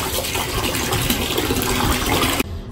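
Hot water gushes steadily from a tap into a bathtub being filled for a bubble bath, a loud continuous pour that cuts off abruptly near the end.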